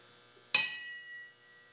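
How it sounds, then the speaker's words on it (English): A crankshaft struck once with a hammer gives a sharp metallic clink that rings on with a clear, sustained tone, then fades over about a second in an otherwise quiet space. "if you hit it with a hammer and it rings, it means that it's not cracked"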